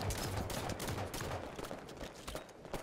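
Rapid automatic gunfire from the Halo 5 video game crackles in dense, overlapping bursts throughout, fairly faint and distant with a busy, noisy texture and no voices.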